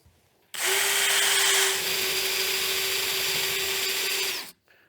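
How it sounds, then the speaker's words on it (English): A power drill whirs loudly for about four seconds while drilling holes in a boat's transom frame, starting abruptly, dropping slightly in pitch partway through, then stopping. "then I can drill the rest of the holes."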